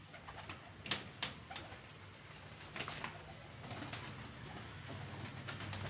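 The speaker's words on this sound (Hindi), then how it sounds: "अब आपको शो करवाते हैं एक चीने कबूतर का" A Chinese pigeon being shown among a flock, with soft cooing calls and a few brief wing flaps mixed into a steady low outdoor background, fairly quiet and close, no talking.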